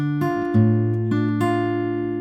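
Fingerpicked acoustic guitar playing a short bar of a song from Frozen 2, a few plucked notes ringing and sustaining over a held bass note, close and clear with no talk.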